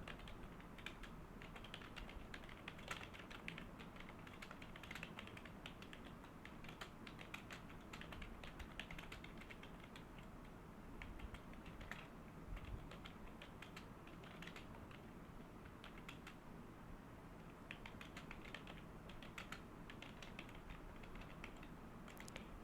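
Steady, fairly quiet keystrokes on a computer keyboard as an equation is entered, a continuous run of light clicks with no talking.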